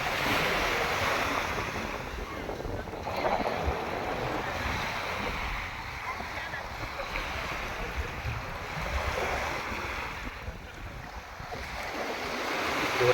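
Sea waves rolling in at a shallow, clear-water beach in Thailand, a continuous rushing surf with gentle swells and wind buffeting the microphone, no voices heard.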